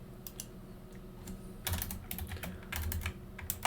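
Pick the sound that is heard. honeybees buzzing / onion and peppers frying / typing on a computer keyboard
typing on a computer keyboard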